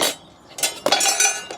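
A 10-inch cast iron pan gives a few sharp metallic clinks and knocks as it is handled, beside a Gozney Roccbox pizza oven at a VW camper at night, with short gaps between the bursts.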